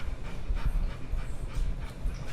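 An old Rottweiler pants rapidly and steadily during a chiropractic adjustment, rhythmic huffing breaths close up and fairly loud throughout, with no voices over it.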